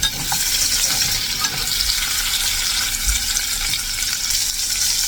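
Steady sizzling and crackling of food frying in a pan, with a constant hiss throughout and a few soft knocks underneath.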